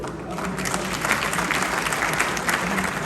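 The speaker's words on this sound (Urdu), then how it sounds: "ذرا تالیاں روک لے" Dense, continuous applause from an audience, a steady wash of many hands clapping close by with no break across the whole stretch.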